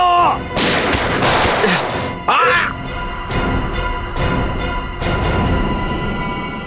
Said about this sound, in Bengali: সিআইডি অফিসারকে গুলি করে দিলি?